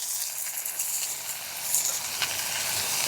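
Curry leaves and coconut pieces sizzle in hot oil, a fairly quiet, bright, steady hiss with occasional crackles and a sharp pop at the end.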